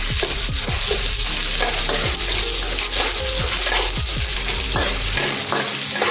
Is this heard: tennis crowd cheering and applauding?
no